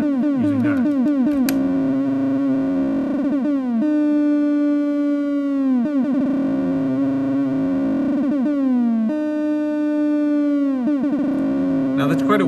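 A modular synthesizer tone, modulated by a slow sine wave, sweeps slowly and repeatedly, its harmonics bending down and back up in a wide, wavering cycle, loud and continuous like a slow siren.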